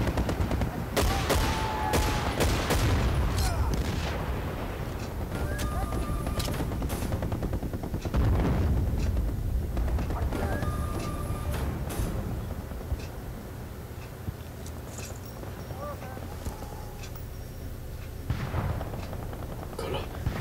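Battlefield 1943 gunfire on the Wake Island map: dense bursts of automatic fire and scattered single shots crackle almost without pause, with booming impacts underneath, loud and close throughout.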